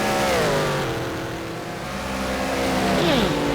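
Race cars in a sim racing game lap the Sepang circuit in an endurance race, their engines revving loudly with pitch sweeping as they pass close by, several cars overlapping.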